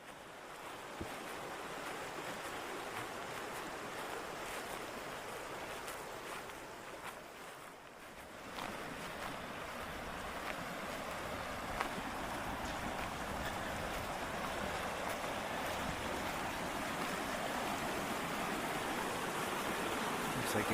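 Terrace Creek pouring into the Alexandra River, a constant broad rush of flowing water that grows slightly louder and fuller partway through.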